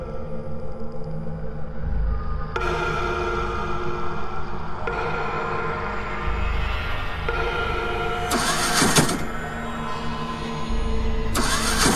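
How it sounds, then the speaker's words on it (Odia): A car engine cranks repeatedly without catching, with loud, close grinding starter bursts in a few long attempts and brief pauses between them. "ଗାଡ଼ି ତ ଷ୍ଟାର୍ଟ ହେଉନି"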